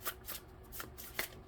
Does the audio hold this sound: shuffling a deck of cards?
yes